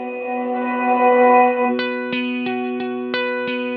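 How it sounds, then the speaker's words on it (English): A reverb soundscape effect from the UJAM Cinedream plugin: a wash of sustained, shimmering tones gives way to repeated struck notes, each ringing out with long echoing tails. "So at the moment we have a really cool reverb soundscape on this effect."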